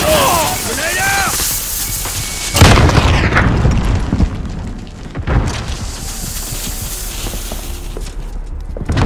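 Grenade explosion in the video game Call of Duty: Modern Warfare, a loud close boom bursting through busy game noise and effects, followed by another blast and continuing battle clutter.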